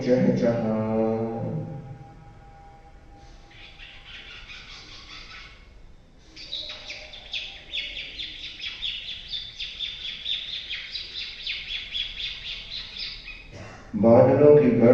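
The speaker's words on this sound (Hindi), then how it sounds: "पक्षियों की चहचहाट" Birds chirp and twitter in a lush green setting of trees and flowering plants, a steady bright chorus of calls running through the middle of the clip, with a voice speaking before and after.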